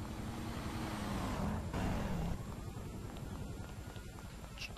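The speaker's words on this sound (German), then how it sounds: "Braust die Pandora an uns vorbei." A Pandora car speeds past in GTA Online as a loud rushing roar of road and engine noise that drops away abruptly after about two seconds, leaving a duller background hum.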